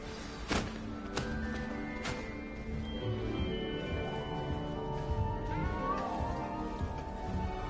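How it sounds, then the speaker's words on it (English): A frightened cat meowing in Hogwarts Legacy, several plaintive mews rising and falling over game music, with a few sharp thuds early on. "You don't need to be frightened, little cat."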